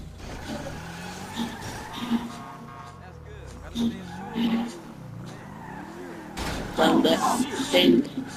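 A car in the GTA 5 video game drives with a steady engine drone, then tires screech in bursts of skidding near the end, while someone talks over the gameplay.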